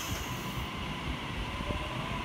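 Sydney train departing Campbelltown station platform, a dense rumbling roar of wheels and carriages close by, steady and loud across the short stretch with no voices.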